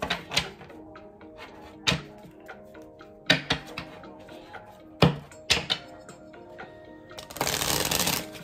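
Tarot cards being shuffled by hand, a series of crisp riffling bursts and soft taps spaced irregularly, ending in a longer continuous flutter of cards, close and fairly quiet.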